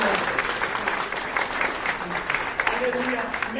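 A church congregation applauds, a dense, sustained patter of many hands clapping, with a voice speaking and calling out over the applause.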